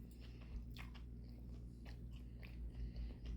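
Close, soft biting and chewing of Panda Express noodles with soy sauce, in a few quiet, moist bursts with no talk.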